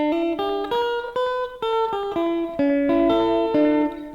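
Guitar plays a short bebop solo phrase in straight, unswung eighth notes, a quick run of clipped single notes with slight effects coloring, close and clear with no talking.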